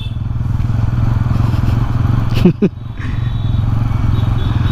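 A Bajaj Pulsar N160 4V motorcycle crawls in second gear with no throttle, its engine keeping a low, steady, close drone that is briefly broken by a clattering scrape near the middle.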